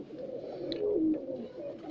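A champion racing pigeon cooing, a low soft rolling coo held close and continuous for about two seconds with faint background noise.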